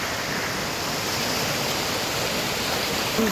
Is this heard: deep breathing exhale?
no